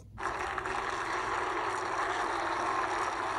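NASCAR Xfinity Series race car engines fire up together at Gateway for the St. Louis 200, bursting into a loud, steady, sustained roar almost immediately that holds unbroken to the end.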